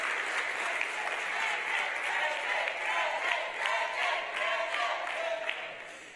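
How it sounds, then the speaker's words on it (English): A crowd at an awards evening applauds warmly for a coach, sustained clapping from many hands with scattered cheers, steady and full, with some voices mixed in. "Let's give her a big round of applause"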